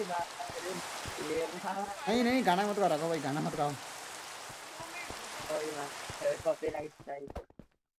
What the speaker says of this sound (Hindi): बारिश हो रही है इधर